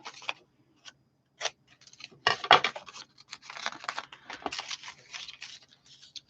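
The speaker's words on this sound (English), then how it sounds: "And we can snip our corners off." Scissors snip the corners off a piece of folded stamped tissue paper, giving a close run of short, dry cutting clicks and scratchy strokes in uneven bursts, with no talking.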